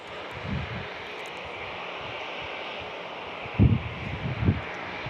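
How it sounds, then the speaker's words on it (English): Jet engines of a Rolls-Royce powered Boeing 747-200 at San Diego International Airport, a broad steady roar with wind buffeting and a few low thumps, heard from a distance. "the aircraft is the Rolls-Royce 747-200"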